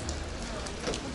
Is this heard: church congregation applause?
no